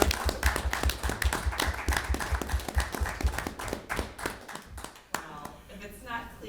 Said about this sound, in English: we should give you another round of applause for sure